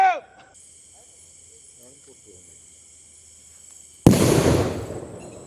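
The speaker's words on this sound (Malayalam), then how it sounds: "രാത്രിയിൽ നാട്ടുകാർ ഉറക്കമൊഴിച്ചിരുന്ന് പടക്കം പൊട്ടിച്ചെറിഞ്ഞാണ് ആനകളെ പിന്തിരിപ്പിക്കുന്നത്" A single loud firecracker bang, set off at night by villagers to drive wild elephants back from a forest border, cracks out near the end after quiet, steady insect chirping.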